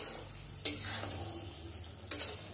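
Potatoes frying in a pan with salt, turmeric, chili and ground cumin, a steady soft sizzle broken by two louder scraping stirs of a spatula, close and quiet with no talking.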